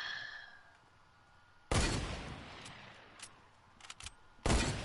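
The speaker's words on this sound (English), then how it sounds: "Stop shooting, please." Video game gunfire in bursts: one loud shot with a trailing decay, a few scattered smaller pops, then another loud blast near the end, over a quiet background.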